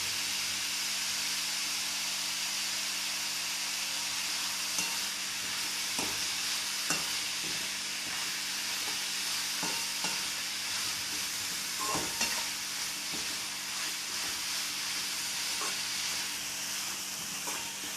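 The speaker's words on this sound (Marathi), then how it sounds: "एक दोन मिनिटं असंच परतून घ्यायचं आहे" Radish chutney sautés in a pan with a continuous hissing sizzle, punctuated by scattered spoon scrapes and taps as it is stirred, close and moderately loud, no voices.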